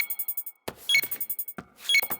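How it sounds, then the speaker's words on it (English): A library computer in a cartoon gives short repeated electronic beeps, a quick run of evenly spaced tones interrupted twice by brighter chiming blips, close and clear. "Why is the computer beeping?"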